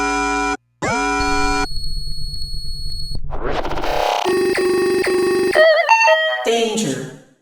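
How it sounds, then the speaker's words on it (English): A rapid sequence of smartphone ringtones and alert tones: chirping synthetic beeps, a sustained electronic tone, then bright melodic chimes and warbling alert jingles, loud and close, one after another with a brief gap near the start. "smartphone ringtone alerts and logos"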